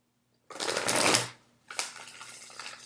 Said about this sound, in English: and I've been shuffling off camera